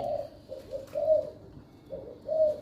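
Soft, low cooing of a dove repeats in short phrases, a few calls spaced apart, fairly faint against a quiet background.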